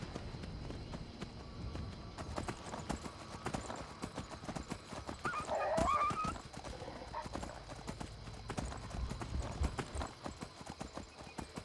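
Horse hooves clip-clop at a steady walking pace, fairly faint, with a brief whinny partway through and some background noise.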